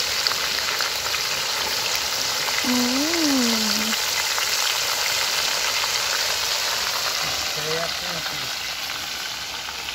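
Meat marinated in yogurt, ginger and garlic fries in a pan at an outdoor picnic, a steady dense sizzle running throughout, with a faint voice or tonal sound briefly rising over it.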